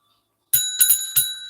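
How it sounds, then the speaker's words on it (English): A bright metallic bell, like a bicycle bell, rings three times in quick succession at close range after a moment of silence, each ring leaving a short sustained shimmer. "bell has officially rung."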